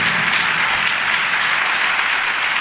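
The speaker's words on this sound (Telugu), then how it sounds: "చప్పట్లు కొట్టు చప్పట్లు కొట్టు" A church congregation claps together during a sermon, a dense, loud and continuous burst of applause with no break.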